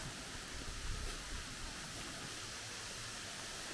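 Değirmendere waterfall in untouched forest, heard as a constant broadband rush of falling water, steady and unbroken, with no voices over it.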